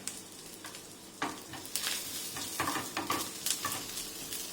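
Onions frying for a pulled beef burger's side filling sizzle steadily in a pan, with repeated scraping stirs that come in short bursts over the continuous hiss, close and clear, with no talking.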